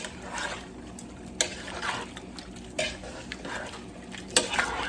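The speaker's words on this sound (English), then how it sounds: "Let me stir this one time before we get started." A spoon stirring a pot of hearty leftover soup, with repeated scraping and clinking strikes against the pot over a low bubbling background, close and moderately quiet.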